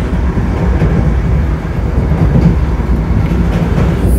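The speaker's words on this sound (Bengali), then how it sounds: "ফাইনালি 15 মিনিট পর ট্রেনটা ছাড়লো" A Vande Bharat train pulls away after a stop, its loud continuous rumble and rolling clatter filling the whole stretch up close, with no voices over it.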